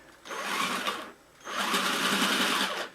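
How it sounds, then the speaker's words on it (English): A power drill with a 3/8 inch bit bores a jack hole in a ukulele body, giving two sustained bursts of high-speed motor whine separated by a short pause. "this actually is a 3/8 inch drill bit I'm using here. to make the actual hole for the jack"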